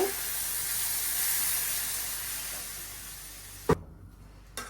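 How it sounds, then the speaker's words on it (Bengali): Prawns frying in a pan hiss and sizzle loudly as a little water is poured in, a steady broadband steam hiss that cuts off abruptly with a clatter near the end. "এখন এই যে সামান্য পরিমাণ জল দিয়ে দিব"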